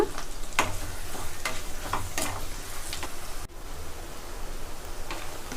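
Small onions and curry leaves sauté in a pan for a medicinal Tamil curry, giving a close, continuous sizzle with a few scraping stirs and light clicks of a spoon.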